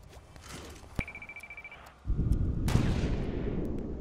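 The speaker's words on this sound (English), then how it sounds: "That's a gunshot." A sharp gunshot cracks in the video game Fortnite, followed by a steady electronic ringing tone, then a denser burst of loud gunfire and rumbling game noise.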